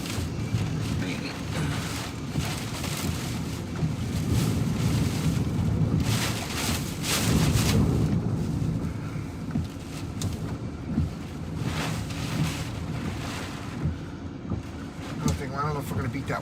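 Hurricane Idalia's wind gusts roar outdoors in a deep, surging rumble that swells and fades over the stretch, loud and continuous, with people talking now and then underneath.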